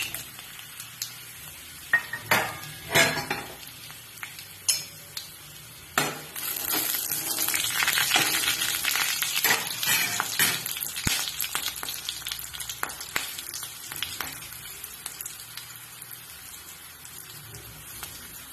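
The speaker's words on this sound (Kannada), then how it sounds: "ಸಾಸಿವೆ ಸಾಸಿವೆ ಪಟಪಟ ಆಯ್ತು ಒಣ ಮೆಣಸು ಮತ್ತೆ ಗ್ರೀನ್ ಚಿಲ್ಲಿ ಎರಡು ಒಟ್ಟಿಗೆ ಹಾಕುವ" Mustard seeds crackling in hot oil, then dry red chilies and green chilies dropped in for a Konkani potato stir fry, sharp pops giving way to a loud steady sizzle with occasional spoon clinks, close, no talk.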